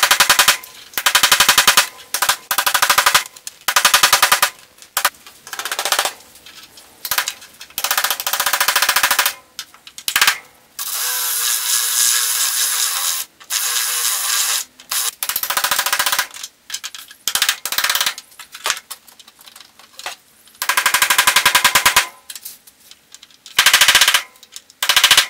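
Air chisel hammering apart spot-welded steel panels on a 1966 Ford Mustang convertible rattles in loud, rapid bursts of varying length, broken by short silences and a few brief pauses, very close.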